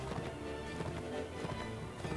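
Horse hooves in the Mount and Blade: Warband video game, a steady galloping clatter running continuously at moderate loudness beneath a busy game soundscape.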